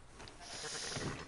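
Sheep bleating in the video game Red Dead Redemption II, a short, fairly soft cry rising over the game's steady ambient background.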